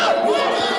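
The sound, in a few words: loud crowd cheering at a Legends Football League game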